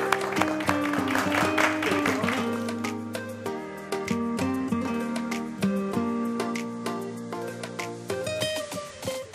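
A studio audience at a Turkish dating show gala applauds, a dense continuous clatter of clapping with music playing alongside throughout.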